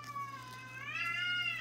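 An angry cat meowing, a single drawn-out rising and falling yowl heard close and fairly faint over a steady low electrical hum, with no voices.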